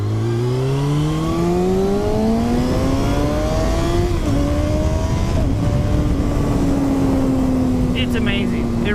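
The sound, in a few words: 2020 Kawasaki Ninja 636 motorcycle engine while riding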